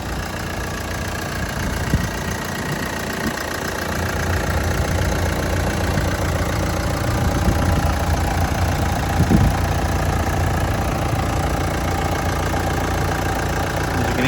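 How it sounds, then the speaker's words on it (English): A Hyundai Santa Fe turbo diesel engine idles steadily with the bonnet open, a close, loud, even rumble with a faint knocking texture that runs unbroken from start to end. "The vehicle's running, got the turbo diesel engine"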